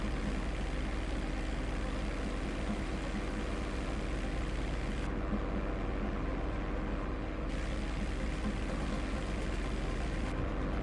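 Steady, droning airplane engine from GTA 5 Online, heard from inside the aircraft as a constant loud roar with no talking and only slight shifts in tone.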